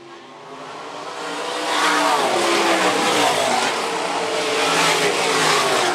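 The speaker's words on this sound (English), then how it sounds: "Top three cars pulling away from Gary Land." Sprint cars race around the Phillips County Raceway track, with a loud, continuous engine roar that swells in the first two seconds and then holds steady as the cars pass.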